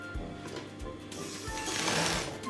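A sewing machine stitches a seam on a six-piece mermaid skirt, its steady mechanical whir running close and continuous with a soft rhythmic thump from the needle.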